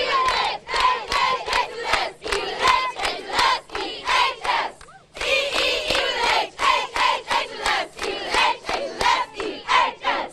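High school students in togas at Easley High School shout a loud group chant together, rhythmic bursts of massed voices with a brief pause midway before the cheer resumes.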